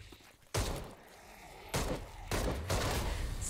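Gunfire in the zombie game Dead Island 2 comes in several sharp, rattling bursts separated by short gaps, fairly quiet overall with each volley striking hard at its start.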